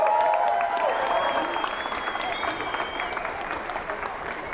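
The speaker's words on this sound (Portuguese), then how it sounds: "já no palco eu quero uma salva de palmas para o nosso pré-candidato a deputado estadual, Gabriel Bertolucci." A crowd at a political rally in Maringá, Paraná, applauding as a state deputy pre-candidate is introduced on stage; dense clapping with cheering and whistles, gradually tapering, with a voice heard over it.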